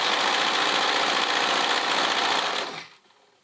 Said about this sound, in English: I am not cutting my elastic, I'm just catching it on the edge